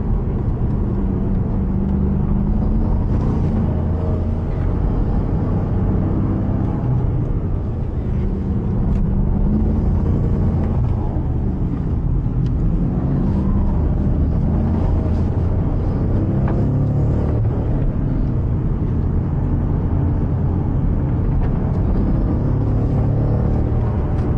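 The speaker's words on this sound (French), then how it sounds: "la voiture vraiment je pense que je pourrais faire tout le circuit en travers" Race car drifting sideways around a circuit, its engine droning loud and steady with a constant low rumble throughout, close and alone without talk.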